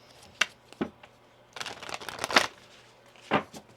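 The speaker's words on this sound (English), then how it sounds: "One more shuffle here." Tarot cards shuffled by hand in a few quick separate bursts, soft riffling and flicking close up with quiet pauses between them.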